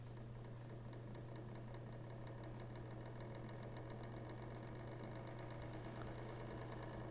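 A small DC motor runs at maximum speed, giving a faint, steady low hum with a fine rapid mechanical rattle throughout and no variation.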